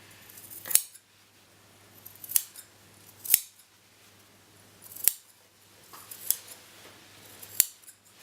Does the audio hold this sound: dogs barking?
no